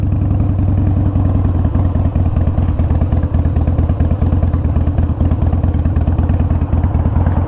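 A Harley-Davidson Springer Softail motorcycle engine idles loudly and close by, a deep rhythmic rumble with mechanical clatter, steady the whole time and without talk.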